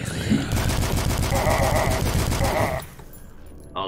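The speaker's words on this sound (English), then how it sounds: "Oh, the fireworks are starting outside." Rapid bursts of crackling fireworks going off outdoors on November 5th in the UK, a dense continuous rattling for about two seconds that cuts off abruptly, followed by a brief quieter tail.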